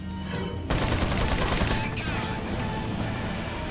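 Dense rapid gunfire erupts loudly from a Resident Evil 4 final boss fight and keeps rattling on as a sustained barrage, with crashing impacts layered through it.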